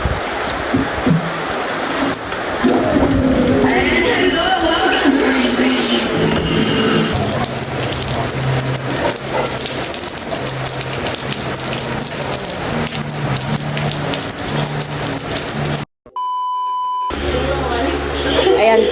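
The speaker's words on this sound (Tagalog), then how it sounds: "Yan po at umulan na nga." Heavy rain pours steadily outdoors, a loud continuous hiss of drops on surfaces, with excited voices talking and exclaiming over it and a brief dropout near the end before the downpour resumes.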